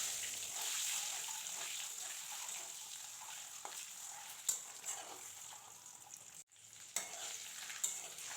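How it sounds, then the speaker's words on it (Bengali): Egg frying in oil seasoned with Kashmiri chilli powder for egg biryani gives a steady, close sizzle throughout, with a few sharp clinks and scrapes of stirring. "এবার এর ভেতরে আমি ডিমটা দিয়ে হালকা করে ভেজে নেব।"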